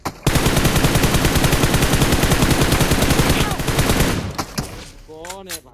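Rapid sustained automatic gunfire in a battle royale video game, a loud, dense stream of shots lasting several seconds before tapering off into scattered sounds and a brief voice.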